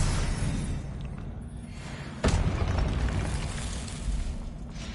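A Confringo blasting spell explodes in Hogwarts Legacy, a sudden booming burst partway through over a dense, loud bed of game noise and rumble.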